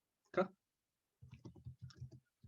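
Rapid run of light keyboard clicks typed on a computer during an online Japanese lesson, preceded by a brief louder sound, fairly quiet and close.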